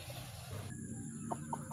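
Hens cluck a few times in quick, soft succession near their feed, over a steady background hum.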